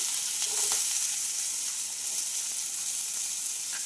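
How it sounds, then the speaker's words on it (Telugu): Chopped onions and green chillies deep frying in hot oil with tempering seeds, a steady close bubbling sizzle that holds evenly throughout with no voices. "పచ్చిమిర్చి వేసుకొని మంచిగా వీటిని డీప్ ఫ్రై చేయాలి"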